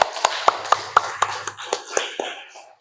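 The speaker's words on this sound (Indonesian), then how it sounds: "tepuk tangan untuk Mbak Queen" A small group claps for Mbak Queen in a classroom, about a dozen quick, evenly spaced claps, close and crisp, fading out at the end with a low voice murmuring underneath.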